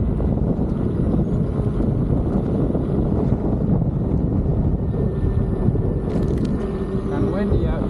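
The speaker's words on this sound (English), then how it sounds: "Kind of windy out today." Steady wind roars and buffets against the microphone while someone rides a Leaperkim Oryx electric unicycle outdoors, a loud, continuous low rumble with no breaks.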